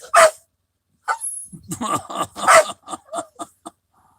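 A dog barks and yips in several short bursts, close by and fairly loud, mixed with human voices and laughter.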